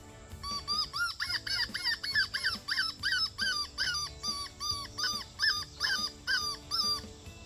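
A reedy small-game hunting call blown in a quick run of squealing, whimpering notes, about a dozen short cries in steady rhythm, close and fairly loud.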